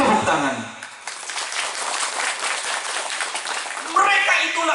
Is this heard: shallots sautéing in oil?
no